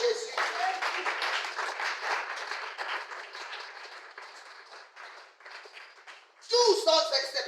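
A church congregation applauds and cheers for Jesus: steady clapping and shouts from many people fill the room for several seconds, then swell into louder cheering at the close.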